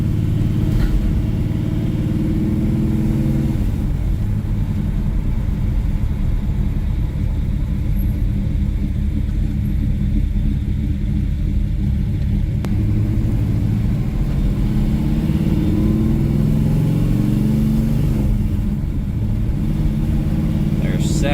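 A 1970 Plymouth Road Runner on a drive, its engine rumbling loud and steady from inside the car, swelling as it revs through gear changes, with road noise underneath.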